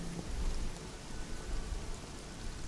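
Steady rain ambience playing behind a tabletop role-playing session, a soft continuous hiss of falling rain with faint low rumbles, quiet and even, with no voices over it.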